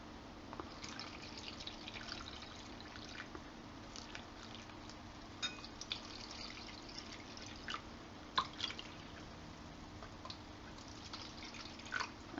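Water poured into a cup of flour to make Bombay halwa batter, a faint steady trickle with scattered soft drips and splashes running throughout, quiet and close, no talking.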